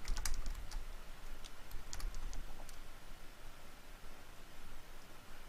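Typing on a computer keyboard, a short burst of clicky keystrokes near the start, then a faint hushed background with only a few scattered taps; no one talks.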